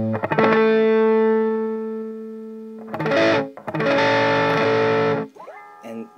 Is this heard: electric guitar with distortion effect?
yes